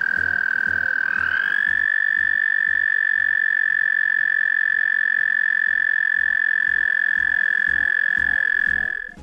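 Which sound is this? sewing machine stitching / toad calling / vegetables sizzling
toad calling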